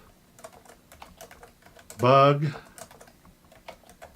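Rapid, light clicks of typing on a computer keyboard while writing Swift code run throughout, close and steady, with someone briefly speaking in the middle.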